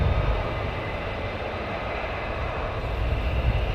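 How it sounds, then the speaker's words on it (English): A military aircraft taxies out toward runway 24 at RAF Lakenheath, a steady, broad low engine rumble and roar heard from a distance, unbroken for the whole few seconds. "So they're now taxiing out for 24."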